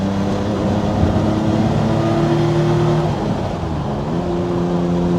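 A 1994 Jaguar XJ220 supercar cruises down a straight, its engine a steady, close drone with a slight dip in pitch midway as the load eases, then settling back into an even hum.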